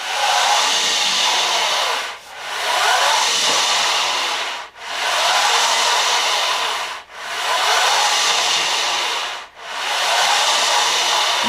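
A new Handy Gym portable exercise machine, the quieter version, runs with a steady hissing whir that fades briefly about every two and a half seconds in a regular repeating cycle.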